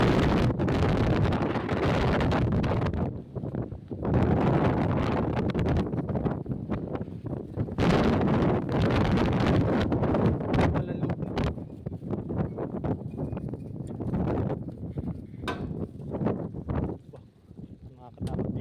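Strong wind gusting across a microphone at an outdoor overnight fishing spot, loud rumbling buffets rising and falling throughout with brief lulls, no clear voices.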